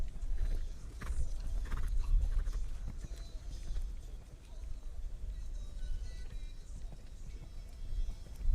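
Horse hooves beat a soft, rhythmic canter across a dressage arena footing during an eventing championship for juniors. Medium-loud muffled thuds repeat under a low background murmur, with faint talk in the mix.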